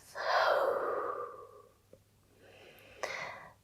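A long, deep inhale followed by a slow exhale, close and soft, in a quiet room during a yoga flow, with no talking.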